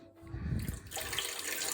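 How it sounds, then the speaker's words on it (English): Water drains out of a container holding settled flour for a pancake batter, a soft trickle that swells into a steady pouring splash with faint gurgling. "now we're just going to drain the water"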